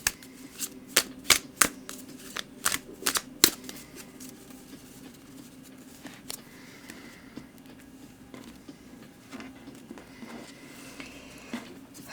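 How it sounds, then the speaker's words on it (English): Tarot cards being shuffled at fast-forwarded speed, a series of sharp riffling bursts early on, then softer, scattered card rustles and taps against a quiet room background. "I'm going to fast forward over the shuffling"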